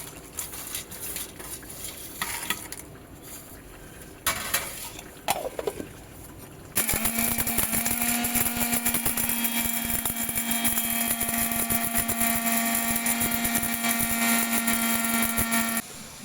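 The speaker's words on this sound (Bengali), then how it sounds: "এই রোস্ট করা মশলাটা আমি মিক্সিতে বেটে নেব।" Electric mixer grinder grinding roasted spices, a few short clattering bursts at first, then a loud, steady high-pitched motor whirr with rattling that runs for several seconds before stopping.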